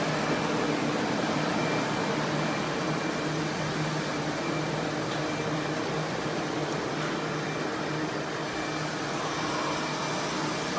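Air movers roar as they dry a water-damaged commercial building after carpet and drywall removal; a loud, steady broadband whoosh of fans holds unchanged from start to finish, with no voices.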